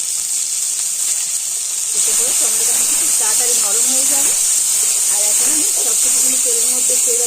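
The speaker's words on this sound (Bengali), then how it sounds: "একটু ভেজে নিয়ে এর মধ্যে দিয়ে দেব টমেটো" Chopped tomatoes sprinkled with a little salt fry in a small amount of hot oil, giving a loud, steady hiss and sizzle throughout while someone talks over it.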